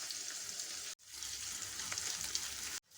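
Cumin, mustard seeds, chillies, onion and garlic sizzle loudly in hot oil: a dense, steady crackling hiss that briefly cuts out twice as ingredients go in, with no voices.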